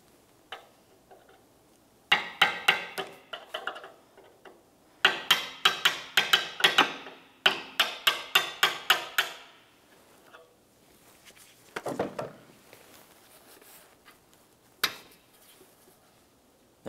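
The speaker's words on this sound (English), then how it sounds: "carefully use a hammer and punch and gently drive it out of position" Sharp metallic taps come in quick bursts, a hammer striking a punch to drive out a liftgate glass support pin on a Lincoln Navigator, several times in a row, with short pauses between groups.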